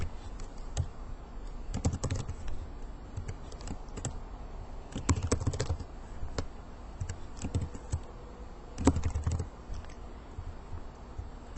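Someone types answer options on a computer keyboard, producing a close, quiet patter of key clicks in short uneven bursts with brief pauses and no speech.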